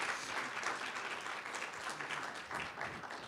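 A lecture-hall audience at a business school speaker event breaks into dense, sustained applause, a steady wash of many hands clapping at once, heard from some distance and fairly soft.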